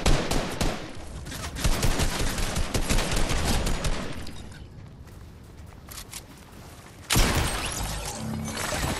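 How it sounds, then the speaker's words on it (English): Video game gunfire bursts in rapid, dense volleys, loud and close at first, thinning to a quieter stretch midway before another sharp burst of shots near the end; no one talks. "Someone's shooting at him."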